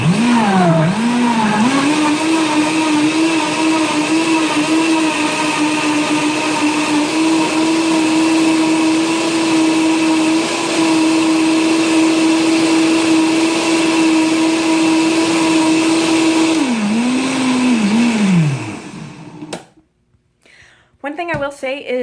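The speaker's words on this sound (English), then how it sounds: "Okay, so blend it up." A Vitamix blender is packed with greens for green juice and runs loud and close for about eighteen seconds, its motor pitch rising, holding steady, then dipping before it cuts out. A brief clatter follows.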